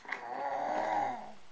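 A small child imitates a lion's roar with a single sustained, growling vocal sound lasting over a second, close and moderately loud.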